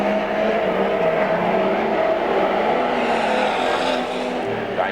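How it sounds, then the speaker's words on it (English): Speedway race cars at Archerfield Speedway in 1997 powering out of the turns and down the main straight at night, a loud, continuous roaring engine blare that fills the whole clip with no one speaking. "Dave Wattling, white flag as he powers out of the 3-4 turns down the main straight."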